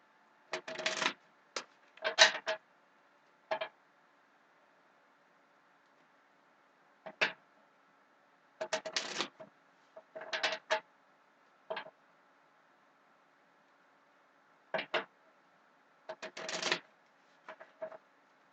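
Tarot cards are shuffled in short, crisp bursts of riffling and flicking, spaced irregularly with quiet pauses between them, close and alone in a silent room.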